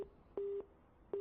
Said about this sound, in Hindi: आपका फोन लगता है कट गया है